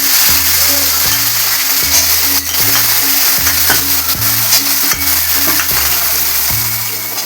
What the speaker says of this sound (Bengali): এবার তার মধ্যে আমি এই উচ্ছেগুলো দিয়ে দেবো।